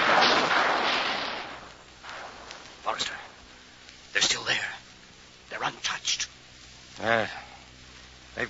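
Rocket battery and artillery fire in a radio drama: a rushing roar opens, then several sharp separate blasts and a warbling whoosh, some moderately loud, with quieter stretches between.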